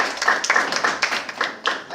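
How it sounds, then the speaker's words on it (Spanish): A church congregation claps for a sister, a short burst of uneven handclaps from a small group indoors, fairly close and lively, fading after about two seconds. "Un aplauso a la hermana."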